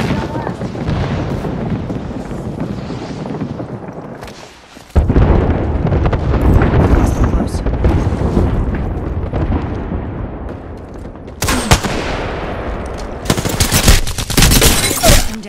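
Heavy artillery barrage and dense gunfire from Apex Legends, a continuous loud roar of blasts and rapid shots that briefly drops out, then resumes with sharp bursts, with voices calling out over the fighting.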